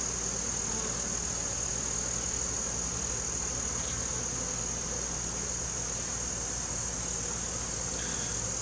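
Dense, steady buzzing of many honey bees crowding hive frames during an inspection after a flood, a continuous close swarm hum with no voices.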